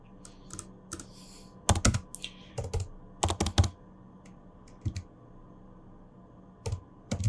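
Keys clack on a computer keyboard in quick irregular bursts, close up, separated by short pauses.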